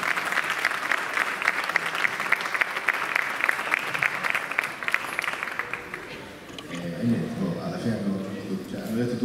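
An audience at a photography event in Casarano bursts into sustained applause, a dense roar of clapping that fades after several seconds into crowd murmur and voices.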